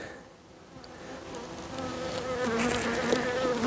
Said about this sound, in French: Ouais, un bourdon.